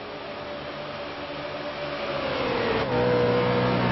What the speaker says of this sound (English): Let's ride along with old Brian Keski and see how his car's handling tonight.